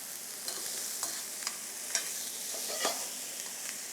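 Onions frying in oil and butter in a pan, a steady close hiss broken by scattered scrapes and clicks as they are stirred, with no voices.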